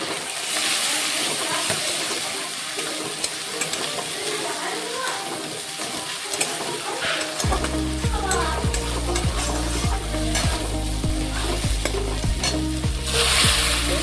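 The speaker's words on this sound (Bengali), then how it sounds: "এরপর খুব ভালোভাবে মশলাটাকে কষে নিতে হবে যতক্ষণ না পর্যন্ত আদা রসুনের গন্ধটা চলে যায়" Spices fry in oil in a pan with fried onions and coriander powder for a cauliflower curry, with a loud, continuous sizzle, stirring scrapes and a low rhythmic hum in the second half; a voice speaks faintly beneath.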